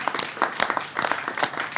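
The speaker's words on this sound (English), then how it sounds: "Give them a round of applause." Audience applause for honored parents and mentors at a high school service team event, a steady wash of many hands clapping close by, rising and falling slightly without voices over it.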